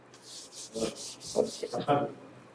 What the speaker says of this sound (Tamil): அந்த காயத்ரி மந்திரத்தை நான் வந்து இப்ப போர்டுல எழுதி போடுறேன்